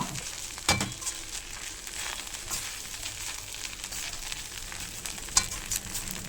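Beetroot rice seasoned with garam masala and asafoetida cooks in a pan with a soft, steady sizzle and hiss, broken by a couple of brief utensil clinks, faint and close with no talking.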